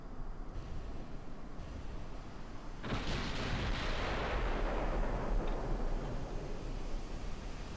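A 15-inch naval shell strikes a ship in the video game Ultimate Admiral Dreadnoughts, a heavy booming impact erupting suddenly partway through and rumbling away over background battle noise.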